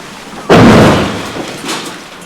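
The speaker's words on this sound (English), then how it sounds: "Tank fire hammers the bunker." Tank fire striking a bunker in a war zone: one heavy, close booming impact that hits hard and then rumbles away into a long noisy decay.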